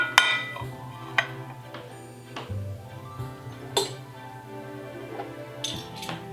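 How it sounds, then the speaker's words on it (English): Salad plates and gold flatware clink together in sharp, scattered taps as a Christmas table is set, ringing close and bright over a quiet background. "I'm going to be using my crystal knife rest along with my gold flatware today."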